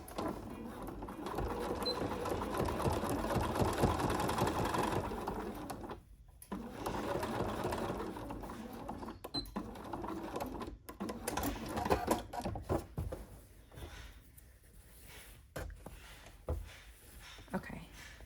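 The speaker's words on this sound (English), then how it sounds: "I'm only going to stitch about 1 inch down and then stop" A sewing machine stitches binding onto a quilt in fast, steady runs, stopping and starting several times, with a person talking over it close by.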